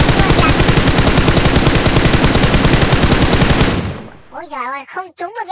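Sustained automatic gunfire in PUBG Mobile, a loud rapid burst of shots for about four seconds that cuts off abruptly, followed by a person talking.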